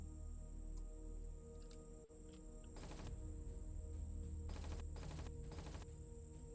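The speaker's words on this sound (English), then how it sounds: "I heard gunfire." Faint, distant bursts of rapid gunfire in the video game Empyrion Galactic Survival crackle in a few short volleys over a quiet background hum.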